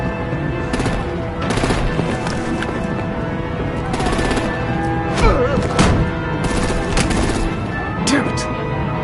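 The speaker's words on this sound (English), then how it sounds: "Break out the artillery and disable their vehicles!" Loud, sustained gunfire and artillery blasts in the Batman: The Enemy Within video game, with rapid bursts and heavy booms running throughout, dense and close, with a voice briefly heard among the combat noise.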